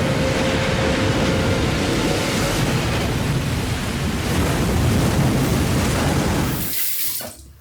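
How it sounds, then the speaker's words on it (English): Running water rinses a Rockwell T2 safety razor at a sink, a steady loud close splashing hiss lasting about seven seconds before it cuts off abruptly near the end. "and then rinse it off again."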